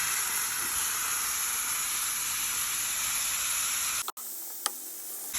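Lamb shank searing in a hot pan gives a steady, loud broadband sizzle that runs unbroken for about four seconds, then cuts off abruptly and leaves only a faint hiss.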